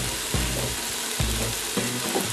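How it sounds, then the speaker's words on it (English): A pound of ground pork and about 1.5 pounds of ground beef sizzling loudly in a pan, a close steady crackle broken by three stirring scrapes. "So you can hear that really sizzle."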